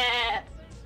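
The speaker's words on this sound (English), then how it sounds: "Goats are among the earliest animals domesticated by humans." A single short, nasal goat bleat rings out up close, loud for under half a second before it drops off into quiet background noise.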